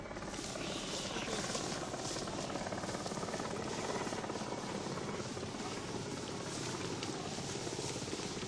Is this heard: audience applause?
no